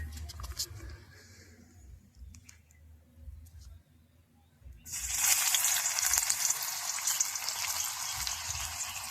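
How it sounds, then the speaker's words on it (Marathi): Chopped onion hits hot oil in a pan over a wood-fired stove while cooking chicken gravy: soft stirring and clinks first, then a loud, steady, close sizzle that bursts in and fills the rest. "आणि तर कांदा टाकून घेऊया."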